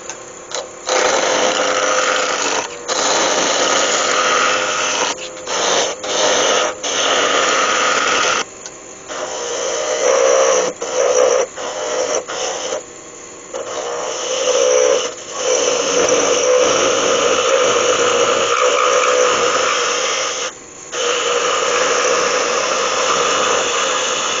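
Small beech snowman arms spin on a wood lathe at high speed, giving a steady whirring hiss broken by short pauses and bursts of cutting noise, near and loud with no talking.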